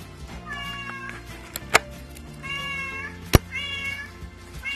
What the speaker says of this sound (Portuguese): é filhote desse gatinho aqui